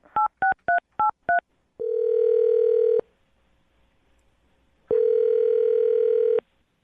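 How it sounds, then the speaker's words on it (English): Five quick dialing beeps in a row, then a steady electronic tone, a pause, and the same tone again; clear and close with no voices. "I'm going to dial his phone number right now."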